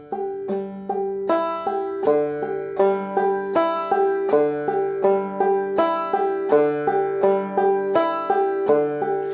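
Bright plucked banjo notes in a steady rolling pattern, with a repeated high drone string ringing between the melody notes, played alone and clearly.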